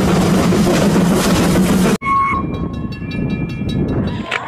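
A colourful toy Thomas train plays loud, close train rumble, then after an abrupt cut gives whistle-like horn tones and mechanical clatter.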